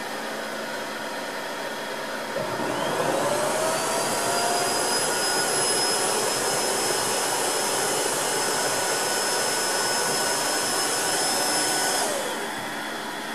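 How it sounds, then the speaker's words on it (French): A Tineco iFloor 3 wet-dry vacuum whirs to life with its rotating brush spinning, a loud, steady motor hum and rising whine that holds evenly for about ten seconds before winding down, with no talking. "Donc là pour l'instant seule la brosse tourne."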